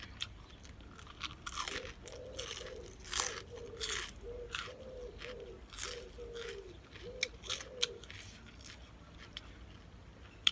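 Close-up crunching and chewing while eating Thai green papaya salad with fresh tomatoes outdoors behind a house, with a run of rhythmic, crisp bites repeating throughout and quiet background ambience.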